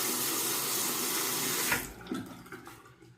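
Tap water runs steadily into a sink to wet a Schick Krona band razor before a shave with Williams mug soap, the flow cutting off partway through and leaving faint clinks and handling noises.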